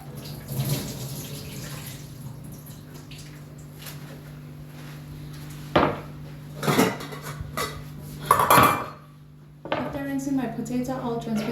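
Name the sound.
potatoes transferred into a dish for rinsing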